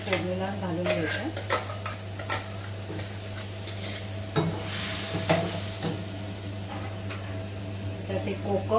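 Spices and red chilli powder sizzle in hot oil for a tempering, a soft steady frying hiss with occasional light clinks and stirring taps from a pan nearby.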